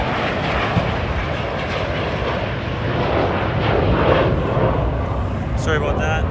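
A fixed-wing airplane near a private airport, heard as a loud, steady engine roar filling the scene, with a brief higher sound near the end.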